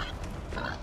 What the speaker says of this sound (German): Das ist ein Eber übrigens und kein Schweinchen.